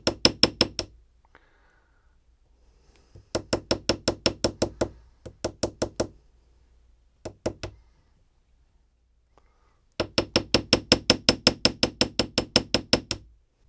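A small hammer taps a pin in a gun forend in quick, even bursts of sharp metallic knocks, separated by short pauses, close and clear with no talk.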